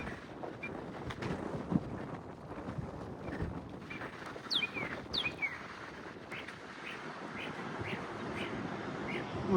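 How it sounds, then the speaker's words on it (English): Birds chirp and sing outdoors at a car show rod run, with brief high tweets and calls rising over a steady wash of wind noise and background crowd murmur. "we've got some birds singing back here behind me."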